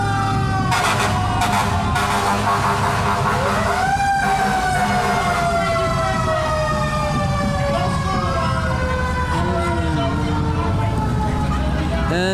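Fire engine 34 from Glenbrook, Connecticut, sounds its wailing siren in a firemen's parade, a loud continuous rising and falling tone over engine rumble and street noise.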